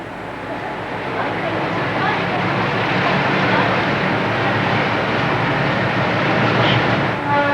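A train runs steadily into Puente Ruinas station near Machu Picchu with a loud, continuous rumble and faint rail clatter throughout.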